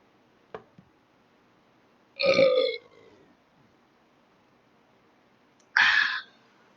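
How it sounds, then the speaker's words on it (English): Two loud, drawn-out burps from a man, each roughly half a second, separated by a few seconds of near silence, preceded by a couple of faint clicks. "I burped."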